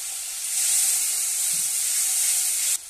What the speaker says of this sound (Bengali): এই যে জল দিয়ে আরো ভালো করে কষিয়ে নিচ্ছি